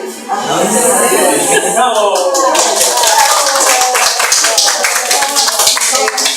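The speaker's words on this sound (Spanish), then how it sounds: "Yo pido un aplauso para este grupo." An audience at an education diploma session applauds a presenting group, dense clapping building quickly and holding steady throughout, with voices mixed into the crowd noise.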